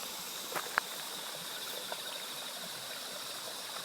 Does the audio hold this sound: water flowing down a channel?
yes